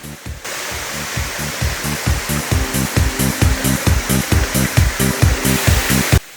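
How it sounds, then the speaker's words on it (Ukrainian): A waterfall roars in a constant broadband rush with rhythmic pulsing surges, loud and close, with no talking. "Каскад водоспаду ніби розтинає сам час"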